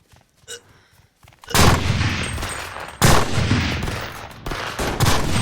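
Gunfire in the battle-royale game Cuisine Royale: after a quiet start with a faint blip, loud bursts of automatic shots erupt in several close, sustained volleys separated by brief dips.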